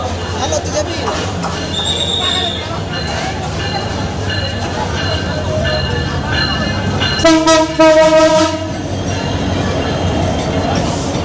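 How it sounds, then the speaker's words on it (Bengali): The Cox's Bazar Express passenger train departs the airport railway station with a steady loud rumble and a prolonged horn blast midway, while people talk over it. "অবশেষে বিমানবন্দর রেল স্টেশন থেকে শুরু হলো আমাদের বহু প্রতীক্ষিত কক্সবাজার এক্সপ্রেসে করে যাত্রা"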